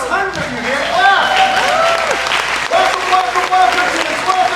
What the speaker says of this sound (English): Come on, clap.